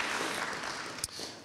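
Symposium attendees applaud in a brief, steady round of clapping, with one sharp louder clap or knock standing out near the end.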